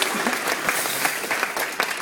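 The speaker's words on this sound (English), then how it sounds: "a big round of applause for this audience for helping me out" Applause from a cruise-ship audience for a magician's volunteer, dense steady clapping filling the room with occasional louder bursts, no voices on top.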